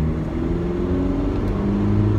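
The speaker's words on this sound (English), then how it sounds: "it accelerates rather nicely" Great Wall P-Series bakkie with a 2-litre turbo diesel engine accelerating, a loud, steady low engine drone heard from inside the cab, with no talking.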